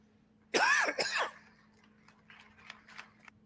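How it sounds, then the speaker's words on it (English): Two harsh coughs close together, near and loud, followed by faint throat noises and small clicks. "He coughed several times during the speech."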